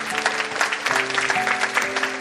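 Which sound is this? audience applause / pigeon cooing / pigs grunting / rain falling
audience applause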